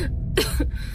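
A woman pulled from a pond coughs harshly up close, two quick wet coughs in about a second, sounding strained and breathless.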